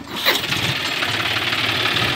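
A John Deere 5036 tractor fitted with a loader cranks and catches with a rising whine, then settles into a steady, loud diesel chug close by.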